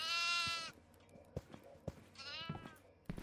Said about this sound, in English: Oh, goddamn goat.